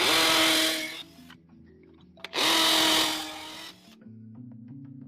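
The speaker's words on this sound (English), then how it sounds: "we can take our 1/4-inch masonry bit and drill these holes out" Two loud, close bursts of a power drill with a 1/4-inch masonry bit boring holes for restroom partition anchors, each whining for about a second and a half, with a quieter mechanical hum between and after them.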